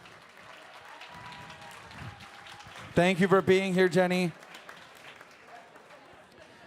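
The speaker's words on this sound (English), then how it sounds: "Would you give a big round of applause for Jenny?" A gala audience at a photography benefit applauds an artist, a broad wash of clapping that carries on beneath a voice speaking close to the microphone.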